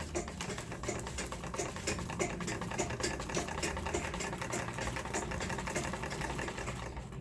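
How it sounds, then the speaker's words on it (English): A sewing machine without thread stitches holes into paper, running steadily with a fast continuous mechanical clatter of the needle punching, close and even throughout with no talking. "I'm going to start stepping, making holes of stitches into this paper without any thread."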